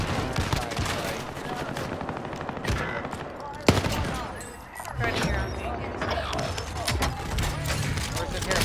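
Rapid video game gunfire rattles almost without pause, with one sharp louder shot standing out midway, all under ongoing voices.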